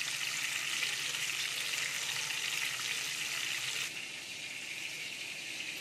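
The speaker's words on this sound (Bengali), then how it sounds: "এগুলো ভাজা হতে থাক" Pabda fish frying in hot oil, a steady close hissing sizzle with no voices, dropping slightly in level near the end.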